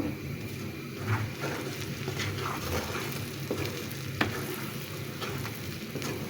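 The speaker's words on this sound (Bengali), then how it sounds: "এখন আচারটাকে আমি বানিয়ে নিচ্ছি, রান্না করে নিচ্ছি" Raw mango pickle cooking in mustard oil with mustard paste and whole green chillies, a steady close sizzle and frying crackle with faint stirring scrapes, no voice.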